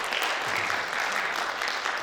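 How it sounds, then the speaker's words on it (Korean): A seated audience at a Seoul author talk gives a steady burst of clapping, dense and even throughout, with no one speaking over it. "저 박수 좀 부탁드려도 될까요? 작가님께."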